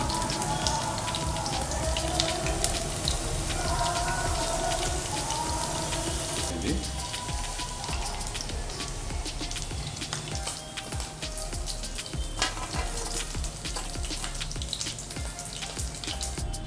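Gujarati ghatiya frying in hot oil gives a dense, steady crackling sizzle, close and even throughout, with a faint shift partway as more batter goes in.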